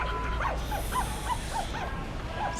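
Puppies give a series of high, thin whimpers and yips, several short calls spread evenly over a steady background hiss.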